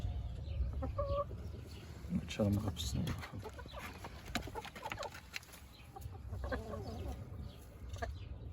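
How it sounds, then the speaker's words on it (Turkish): Indian game chickens cluck and murmur close by in short bursts, while someone speaks briefly over them. "Burada Hint horozlarımızdan, Hint tavuklarımız var."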